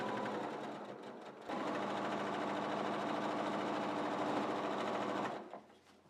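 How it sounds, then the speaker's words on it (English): A sewing machine from a Brother Scan n Cut wall hanging project stitches fabric together with a quarter-inch seam, running in a steady, fast, even whir for about four seconds after a brief start, then stopping. "using a 1/4 inch seam, just going to sew it all together"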